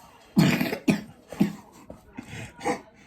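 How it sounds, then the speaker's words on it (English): A run of harsh coughs, close by, in several bursts with short pauses between them and no talking. "Sorry about the coughing."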